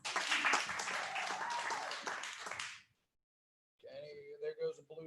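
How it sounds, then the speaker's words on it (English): A small improv comedy audience claps for nearly three seconds, then goes silent, and voices and scattered claps follow. "Can we start off with a round of applause?"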